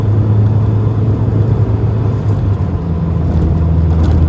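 A 1984 Vauxhall Cavalier driven along narrow country roads, heard from inside as a loud, steady engine drone with road rumble that eases briefly and then picks back up.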